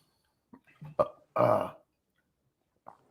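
Several short, sharp hiccups and gulping sounds come from a person who has been eating hot peppers, spaced unevenly in a quiet room, with one long throaty burst in the middle.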